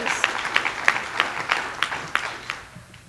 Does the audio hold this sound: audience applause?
yes